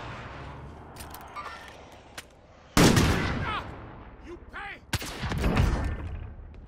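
Gunfire in a shooter video game, a few scattered shots and then two sharp loud bursts with ringing tails, with game voice lines heard alongside.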